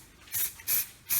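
Hairspray from an aerosol can sprayed in three short hissing bursts over fine ballast on a mini model railway layout, close and fairly quiet.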